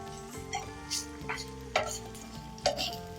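Onions and spices roasting in a pan for Mangalorean chicken ghee roast, a close sizzle with several distinct stirring scrapes and metallic clinks of a spatula against the pan.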